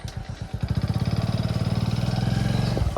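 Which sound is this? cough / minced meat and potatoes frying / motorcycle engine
motorcycle engine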